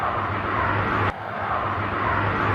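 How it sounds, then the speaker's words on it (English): A passing airplane makes a broad, steady engine roar with a low droning hum. It stays moderately loud throughout, with a brief dip partway through. "passing airplane"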